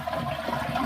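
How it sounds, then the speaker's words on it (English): A household toilet with its water supply valve shut off is flushed, giving a steady, close rushing of draining water that stays even throughout, with no talking. "And give the toilet a flush."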